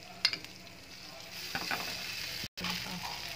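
Noodles are stirred into chili garlic sauce in a hot pan, with a continuous sizzle, scattered spatula scrapes and taps, and a brief cut in the middle.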